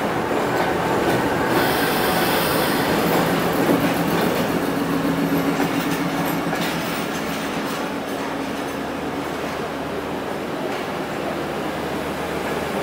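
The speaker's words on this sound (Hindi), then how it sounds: "अब ट्रेन हमारी गुजर खान रेलवे स्टेशन से निकल रही है।" A Pakistan Railways Awam Express train, hauled by locomotive GU24567, pulls out of Gujar Khan station. Steady rumbling and clattering wheels are heard from onboard, with brief squeals, loud and continuous throughout.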